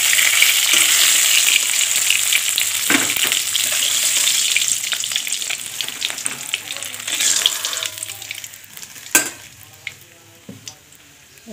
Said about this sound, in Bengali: মাছগুলো ভাজা হয়ে গেছে, আমি এটা মাছগুলো একে তুলে নেব।